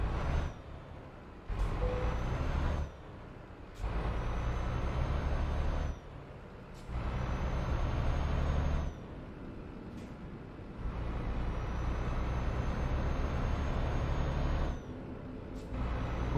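Air brakes on a truck in Euro Truck Simulator 2 hiss in repeated loud bursts over a steady engine rumble, with short gaps and sharp releases between them.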